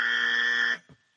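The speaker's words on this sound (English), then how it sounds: "I'm going to play the wrong buzzer 7 or 8 times just to make up for it." A wrong-answer buzzer sound effect, a single harsh sustained electronic buzz lasting under a second, loud and close, cutting off abruptly with a faint tail.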